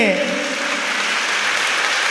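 Audience applause at a Jain religious discourse gathering, a dense, loud, steady wash of many hands clapping together that carries evenly through the whole moment without breaks.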